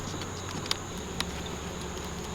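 Bees buzzing at a beehive, a thin steady drone with a few faint passing buzzes, low and distant against a constant background hiss, no voices.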